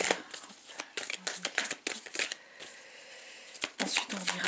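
Oracle cards being shuffled for a tarot-style reading, a run of quick papery riffles and soft slaps in uneven bursts, close and moderately loud, with brief pauses between handfuls.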